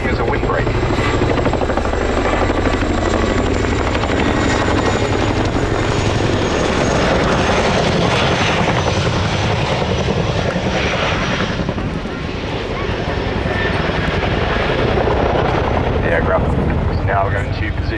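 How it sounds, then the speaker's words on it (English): A Boeing Chinook twin-rotor helicopter at an RAF Cosford airshow performs a nose-down deceleration and turn, its loud, heavy rotor thrum and engine roar filling the air continuously, briefly dipping before surging again. "The Chinook will now demonstrate a nose down to rapidly decelerate the aircraft and turn using some pedal."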